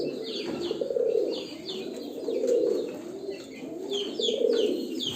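A jumbo costume pigeon coos in a steady, rolling series of low murmuring phrases, close and clear, while small birds chirp and tweet intermittently in the background of the loft.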